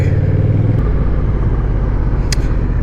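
A Honda Rebel DCT small cruiser motorcycle engine idling close by, a loud, steady low rumble with an even throb and one brief higher tick near the end.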